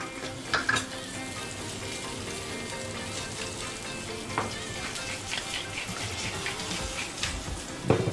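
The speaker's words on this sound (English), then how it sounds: "And we'll just start to saute these mushrooms." Mushrooms, tomatoes and asparagus sizzle loudly in olive oil in a hot pan, a dense, steady crackle with occasional sharper spits and stirring clatter, no voices.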